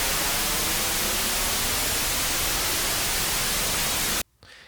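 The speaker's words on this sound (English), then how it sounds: "Here we have a block of custom pink noise from Serum." Steady, dense pink noise generated in the Serum synthesizer hisses loudly for about four seconds, then cuts off abruptly into near silence.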